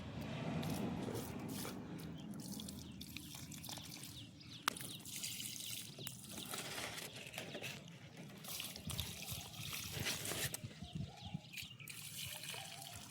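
Water being poured at the base of a vine onto its roots, a faint trickling and splashing with a few soft clicks and knocks, quiet and close, no speech.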